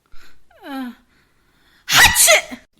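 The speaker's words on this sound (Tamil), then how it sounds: "நீ பாட்டுக்கு இருக்கிற எங்க இருந்து தும்மல் வருது தெரியல" A single loud, explosive human sneeze bursts out after a brief rising breathy intake and a quiet pause, heard close and alone in a quiet room.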